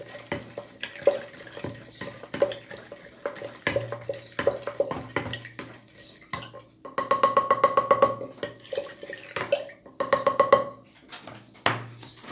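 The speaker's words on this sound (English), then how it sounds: "give it a mix just to dissolve. Okay, the sugar." Sugar being stirred into water for homemade apple cider vinegar: repeated clinking and scraping of a utensil against a container, with bursts of rapid rhythmic stirring, close and moderately loud, no talking.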